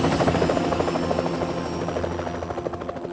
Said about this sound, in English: use the helicopter to get the fuck out of there.